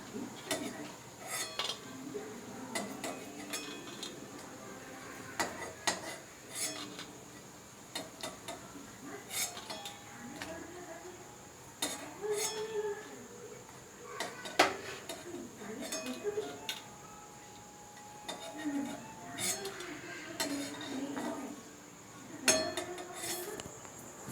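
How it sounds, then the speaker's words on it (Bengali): Metal utensils clink and scrape against a pan while fried lentil fritters with raw potato are lifted out, a series of irregular sharp taps and rattles at close range over quiet background. "আর এই আমার ডালের বড়াগুলো হয়ে গেছে, এবার আমি নামিয়ে নিচ্ছি।"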